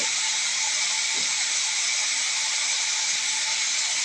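Sliced bitter gourd and potato frying in a pan, a steady loud hiss of sizzling oil throughout with no break.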